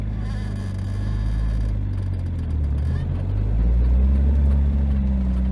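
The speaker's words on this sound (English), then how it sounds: "First gear engagement. We're in first, a little bit of gas," A 2JZ-powered car with a Tilton clutch pulls away in first gear, its engine droning low and steady at close range before rising in pitch and loudness as it gathers speed.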